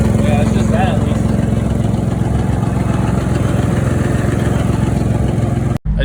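A Nissan 350Z fitted with a single turbo idles steadily and loudly up close, a deep continuous engine drone that holds even before cutting out abruptly near the end.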